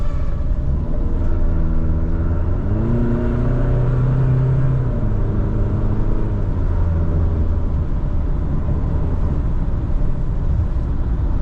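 Engine of a 2013 Hyundai Santa Fe 4WD revving at half throttle, a loud steady drone that climbs in pitch partway through, then settles into a sustained rumble with no talking.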